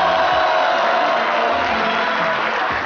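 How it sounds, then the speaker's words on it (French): A concert audience at an outdoor-style show produces a dense, steady roar of cheering and shouting with some clapping mixed in, loud and continuous throughout without a break. "Reprenez vos applaudissements."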